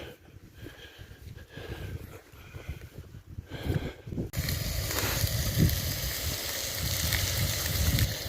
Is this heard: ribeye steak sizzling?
yes